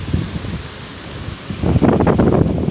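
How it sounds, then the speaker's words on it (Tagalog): Strong wind buffeting a microphone outdoors at a Christmas party venue, a steady low rush that surges louder in gusts during the second half, with no talking. "Napakalakas ng hangin."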